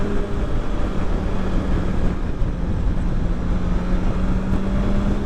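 A 2020 BMW S1000XR motorcycle engine makes a steady, loud drone with a low growling rumble, heard close and continuous with wind buffeting over it.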